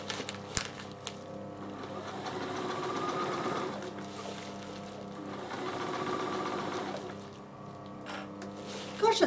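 A Bernina sewing machine stitches steadily around a large coolie bag, its motor humming and needle whirring continuously with brief slowdowns, close and fairly loud with no talking.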